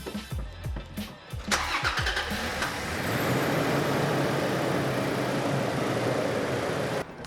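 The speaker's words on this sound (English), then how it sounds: "The moment of truth is if I try to turn this vehicle on and it works." A Toyota Tacoma pickup fitted with a dual battery system starts up: a few cranking bursts, then the engine catches and settles into a steady, close idle that runs until the end.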